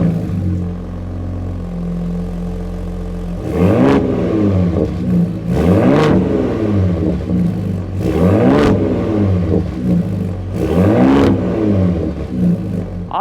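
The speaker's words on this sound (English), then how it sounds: "What does the exhaust note sound like on this truck?" A Ford F-150 Raptor pickup truck's exhaust idles with a low rumble, then is revved hard four times in a row, each loud surge rising and falling back to idle.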